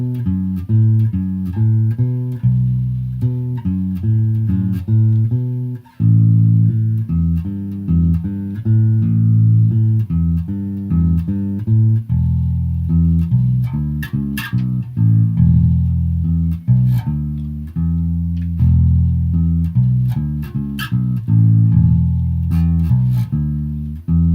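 Bass guitar playing the chorus of a wrestling entrance theme, a steady run of low plucked notes with a few brighter accents, loud and alone throughout, with no talking.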